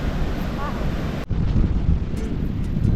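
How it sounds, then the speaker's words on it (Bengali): Big monsoon waves wash in on the Kerala coast while a cold wind buffets the microphone, a loud roaring rush that dips briefly midway and then returns. "আর ঢেউ প্রচুর বড় বড় ঢেউ। আর ঠান্ডা হাওয়া, গরম না একদম।"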